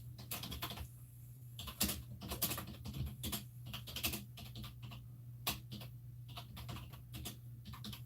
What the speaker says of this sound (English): Just sit here typing.